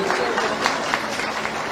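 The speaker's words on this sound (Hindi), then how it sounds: "इसलिए जोरदार ताली नहीं बजाओगे तो भाषण नहीं शुरू करूंगी" Audience applause fills a hall at a commemorative event, a dense, steady patter of many hands clapping together, loud and sustained with no break.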